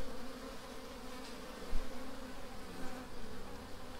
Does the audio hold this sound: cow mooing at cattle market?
no